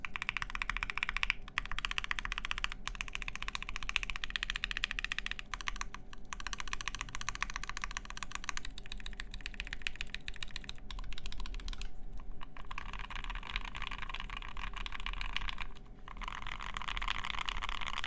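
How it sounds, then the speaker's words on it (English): Continuous typing on a mechanical keyboard fitted with NK Silk switches, a dense run of close, crisp clacks with brief pauses, heard alone over a low steady hum. "I don't like the spacebar sound right now."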